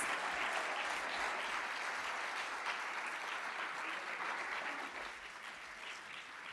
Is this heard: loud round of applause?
yes